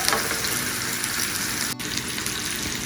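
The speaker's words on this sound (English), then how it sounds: "We also have the garlic roasting on high heat." Pork chops and garlic frying on high heat in a pan, a steady dense sizzle and crackle running throughout, loud and close, with one brief dip near the end.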